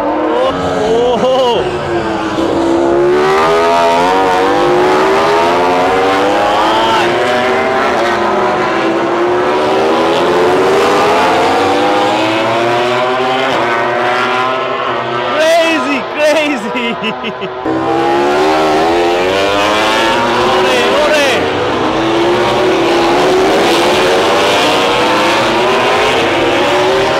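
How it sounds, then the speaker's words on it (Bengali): MotoGP motorcycles race past on the Thailand circuit, high engines wailing and sweeping up and down in pitch as bike after bike passes close and loud, with voices faintly underneath. "আর পাশেই হচ্ছে আমাদের সার্কিটটা, যেখান দিয়ে সবগুলো বাইক যাচ্ছে।"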